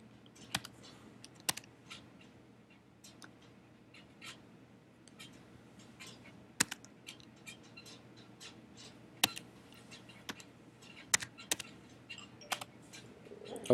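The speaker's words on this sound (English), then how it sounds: "So we're going to type in the date." Keys clack on a computer keyboard as a date is entered into a medical admission form, sparse irregular taps and a few sharper clicks over a quiet room hum.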